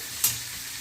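Onions sizzle in a pot at the start of a chili, a soft steady hiss with one brief louder crackle near the beginning.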